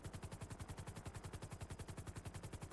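A heavy gun fires a fast, steady automatic burst in a police roleplay video game, each shot evenly spaced in a relentless rhythmic rattle, distant and fairly faint.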